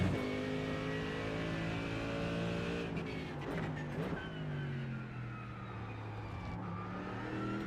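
A Mercedes race car engine in iRacing roars loud and close, its harmonics sweeping up and down through gear changes and a dip near the middle before settling into a steady howl, no voices.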